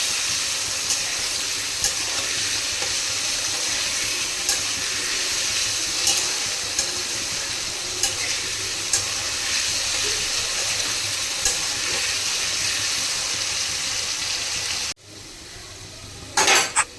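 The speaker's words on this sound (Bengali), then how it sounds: "আলুটাকে লাল করে ভেজে নেব" Potatoes frying with cumin and dried chilli in a pan, a steady close sizzling hiss with small spatula clicks at intervals, dropping to quieter frying near the end, with no talking.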